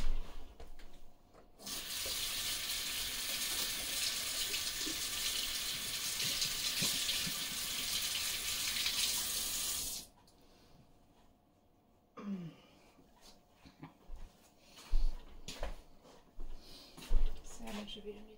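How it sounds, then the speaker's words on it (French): Kitchen tap running into a sink for several seconds of steady rushing water during handwashing, then shutting off, followed by quieter handling clatters. "je vais me laver les mains."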